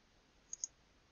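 Two quick, faint computer mouse clicks in close succession, heard alone against near silence.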